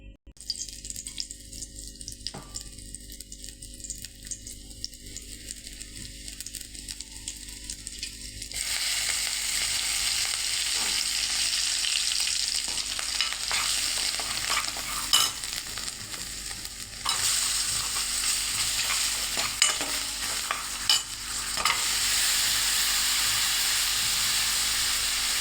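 Boiled cauliflower drops into a hot pan and fries with a loud steady sizzle and hiss, stirred now and then with scraping clinks, close and alone without talking.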